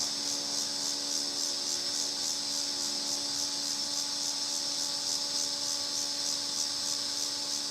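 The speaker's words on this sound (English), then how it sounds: "You can hear the cicadas now" Cicadas drone in an outdoor rural setting, a steady, continuous high-pitched buzz with a faint pulsing texture that holds unbroken throughout, with no voices over it.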